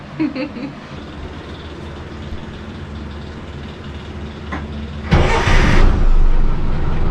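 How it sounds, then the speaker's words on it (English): A boat's inboard engine runs steadily, muffled inside a freshly insulated engine box, a low continuous hum under the scene; a louder broadband rush swells in near the end. "We're gonna show Jack how quiet the engine is with the box all in place"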